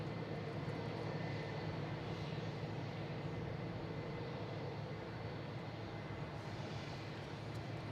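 Boeing 747 taxiing out toward runway 22 left for departure at Boston Logan, a steady low jet-engine rumble and whine holding evenly throughout at a moderate distance, with no voices.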